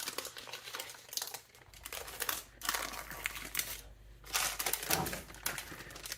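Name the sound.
parchment paper being peeled off a loaf of egg white bread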